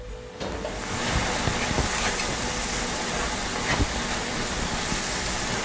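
Breadcrumbs are stirred into cooked onions in a hot pan, making a steady, broadband hiss and sizzle that runs continuously with faint scraping taps from the spoon.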